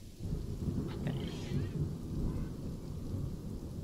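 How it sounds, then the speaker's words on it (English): Rain with thunder in the zoo-building game Planet Zoo, a constant hiss of rainfall over a low rumbling thunder bed, unbroken and fairly loud, with no talking. "it's raining and everything as well"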